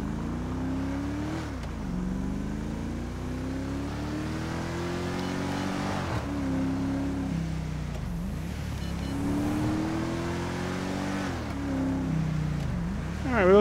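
Car engine in Grand Theft Auto V, droning steadily and fairly softly with repeated rising and falling pitch sweeps as it revs and shifts through gears, with no talk over it.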